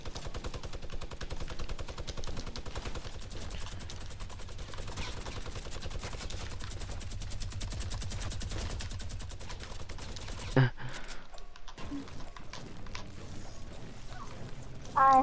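Sustained rapid gunfire from a purple heavy assault rifle in Fortnite, a dense unbroken burst lasting about ten seconds before cutting off, followed by quieter clanks and game sounds.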